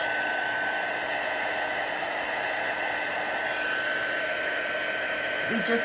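A heat tool blows a steady, even, whooshing hiss while melting embossing powder on a card, continuous and fairly close for the whole stretch, with no talking.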